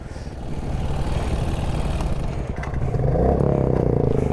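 A motorcycle carrying two riders rolls along with a steady, loud engine drone, rough clatter and wind rumble throughout, building slightly toward the end with no talk.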